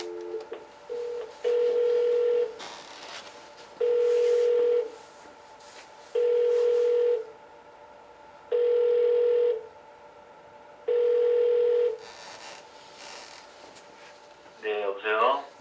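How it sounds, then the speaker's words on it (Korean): A telephone call being connected during a broadcast: five long, steady ringback tones repeat at an even rhythm with short pauses between them, under faint background sound, then a voice answers at the end. "한번 우리가 주원이 아빠를 잠깐 연결해 보도록 하겠습니다"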